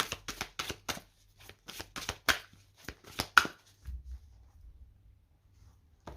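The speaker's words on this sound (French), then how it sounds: "avec le tarot des anges gardiens, on va prendre 2 cartes" A deck of guardian angel tarot cards is shuffled by hand in quick, crisp riffling bursts for about four seconds, close up, followed by a few soft handling thuds, with no talking.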